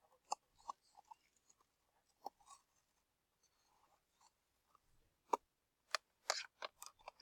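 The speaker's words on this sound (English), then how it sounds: "just kind of follow with the scissors along one side here of the bottom" Scissors cut along the bottom seam of packaging, close and quiet, with sparse, irregular snips and crinkles separated by short pauses.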